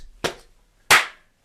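Body percussion from a school music lesson: two sharp, separate slaps or claps about two thirds of a second apart, the second louder and brighter, close and dry with silence around them.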